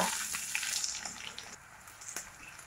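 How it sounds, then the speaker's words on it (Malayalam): Sliced onions, four of them, sauté in hot oil with fennel seeds for a Kerala-style beef dum biryani, giving a steady, close frying hiss with small crackles and no talking. "നമ്മുടെ സവാള ഇനി നന്നായിട്ടൊന്ന് വഴന്ന് വരണം"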